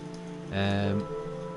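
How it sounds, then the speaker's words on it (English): Steady rain sound effect from a homemade survival horror game built in Dreams on PS4, a continuous even wash that stays under a brief swelling tone partway through. "the rain sound might muffle things a little bit"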